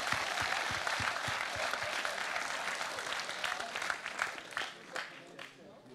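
Clapping from the audience at the Mister Polski 2020 final gala, a sustained round of applause that gradually thins toward the end as individual claps stand out more clearly.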